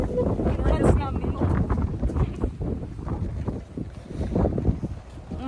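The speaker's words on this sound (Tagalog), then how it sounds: "pero ang nakasobra ng hangin" Strong wind buffets the microphone in heavy, rumbling gusts during wind and drizzle in Tokyo while people talk underneath.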